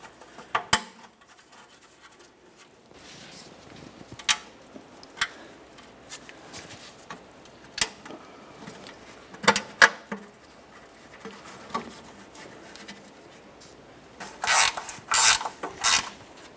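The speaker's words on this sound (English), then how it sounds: "We'll start them all in and snug them up." Hand tools tighten the 11mm mounting bolts on the oil pan shield of a 1994-2002 Dodge Ram 2500, giving irregular ratcheting clicks and metallic scrapes that end in a louder rapid burst.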